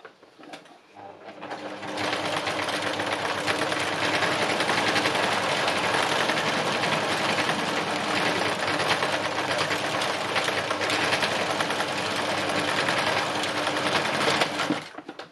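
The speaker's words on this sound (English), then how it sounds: "I'm just going to free machine embroider them down." Sewing machine running steadily through free machine embroidery while stitching down pieces in an upcycling project, a continuous fast whirring drone holding at close range for about thirteen seconds with no talk over it.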